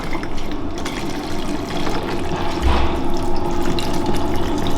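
Tap water pouring steadily into 500 ml of coconut water to top the drink up to 1.5 liters, a continuous close splashing gurgle that swells slightly as the container fills.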